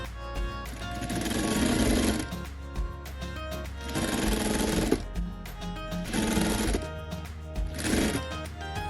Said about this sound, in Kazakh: мен сізге кішкентай ғана бөлігін тігіп көрсеттім